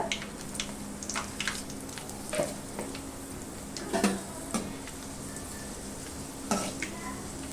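Mustard seeds and dried chillies fry in hot oil in a pan while lemon rice is being made, giving a steady sizzle broken by sharp pops and spatters, close and fairly quiet, with no talking.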